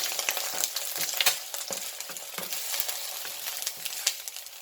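Egg frying in a pan during a fry-up, a close crackling sizzle with irregular sharp pops and spits throughout, moderately quiet and without talk.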